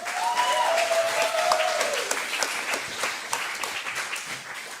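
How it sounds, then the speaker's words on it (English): Applause from an audience at a fight event, a sustained wash of many hands clapping that starts loud and gradually thins out, with a faint voice heard briefly near the beginning. "Would you give him one more round of applause coming out here and fighting on his birthday like that?"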